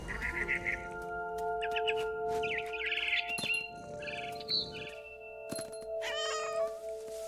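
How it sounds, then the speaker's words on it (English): A cat meows several times in short, high, wavering cries, with other tonal electronic sounds and clicks around it, in the video game What Remains of Edith Finch. "was a cat"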